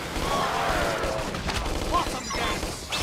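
Dense gunfire and crashing impacts from the video game Xenoblade Chronicles X during a battle, a continuous loud barrage with bursts and whistling effects layered over game music.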